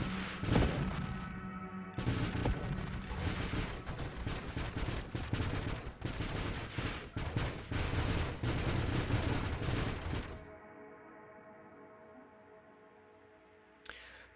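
Video game turrets in Spelunky 2 firing a loud, rapid automatic burst for about ten seconds, then cutting out to a quieter hum of game sound, with a faint thump at the very end.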